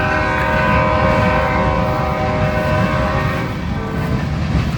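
A train horn sounds as a long, sustained tonal blast with layered pitches, heard outdoors over rumbling rail noise, loud and steady before fading slightly near the end.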